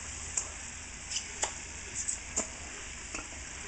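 Bacon-wrapped filet mignon sizzles in a butter marinade with rendering bacon fat, a soft steady frying hiss broken by several sharp pops and spatula taps close by.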